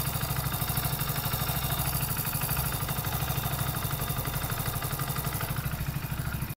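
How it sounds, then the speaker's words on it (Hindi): A Hero Splendor motorcycle engine idles steadily with an even, rapid low throb and light mechanical clatter, close and continuous with no talking. "इंजन का साउंड अभी मस्त मोला मक्खन आ रहा है"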